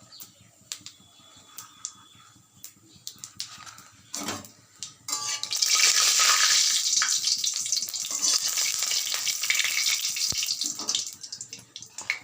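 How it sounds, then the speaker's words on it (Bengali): Whole cumin seeds, a bay leaf and a dried red chilli hit hot oil for a Bengali soybean curry: a few clinks, then a loud, sustained close-up sizzle that fills the rest. "জিরে দিলাম, গোটা জিরে ফোড়ন, একটা তেজপাতা, একটা শুকনো লঙ্কা।"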